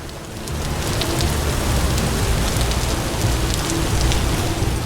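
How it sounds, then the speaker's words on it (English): Rain falls steadily outdoors as a dense, even hiss with a patter of drops, constant and fairly loud, with no voices. "there's rain coming in again"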